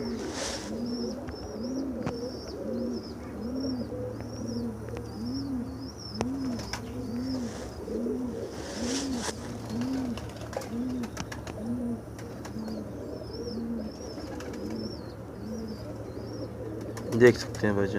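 Pigeons at the Gudary pigeon market in Multan coo in a steady, repeating rhythm nearby, with a few higher chirps above it, while someone talks over them.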